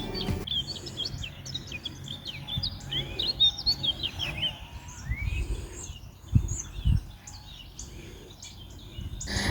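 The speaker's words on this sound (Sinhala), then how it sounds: "ඉන්නකෝ අපි කුරුළු සද්දෙත් අහමු." Several birds chirp and tweet in quick, overlapping calls from cypress trees in a garden in Italy, some near and some farther off, with a few low thumps underneath.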